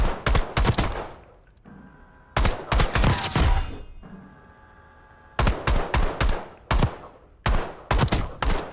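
Bursts of rapid gunfire from a marksman-style weapon in the Black Ops 6 firing range, several loud volleys separated by short pauses with a low hum between, no talking.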